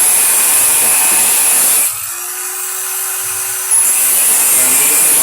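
An angle grinder works on welded metal shafting in a DIY job, a loud continuous broadband whine that drops out for about two seconds in the middle before resuming at full strength.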